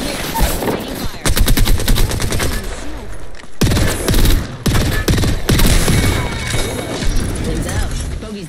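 Loud, close bursts of rapid automatic gunfire in an Apex Legends trios match on the Broken Moon map, with short gaps between the sustained volleys.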